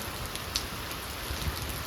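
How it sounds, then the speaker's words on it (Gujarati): Steady, dense heavy rain hiss fills the whole stretch, an even downpour of falling water with no voices and a couple of faint low knocks. "વરસાદે બગડાટી બોલાવી દીધી આજ તો"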